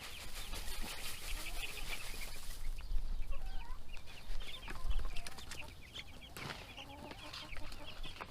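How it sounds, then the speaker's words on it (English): A hen gives odd clucking, squawking calls in a chicken pen with meat bird chicks, several irregular bursts at moderate distance over quiet background. "Well, that's a weird sound from one of the hens over there."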